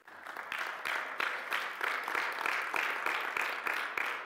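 A church congregation claps together in a steady rhythmic beat, roughly three claps every second, moderately loud and without talk.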